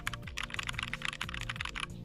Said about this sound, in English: my keyboard is currently holding my mic down, so I can show you guys what the sound test is like.